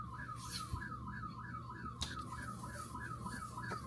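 Car alarm going off with a repeating rising-and-falling warble in steady cycles, moderately distant, broken by a couple of sharp knocks.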